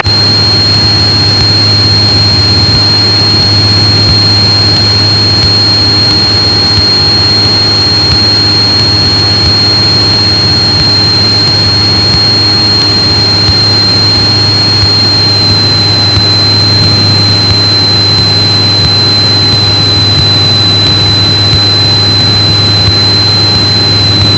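Cessna 185 taildragger engine at high power on the takeoff run, a loud continuous drone with a strong low hum and steady high whine, no talk over it.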